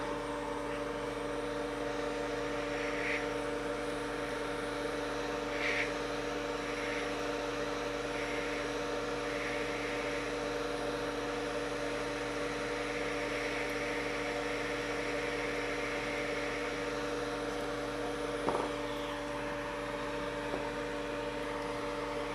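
Hot air rework tool blowing heat onto a half SSD board during data recovery, a constant airy hiss with a steady low hum underneath, unchanging and close, with one brief clack partway through.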